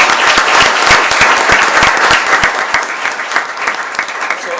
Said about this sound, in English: Let's give this incredible team a round of applause.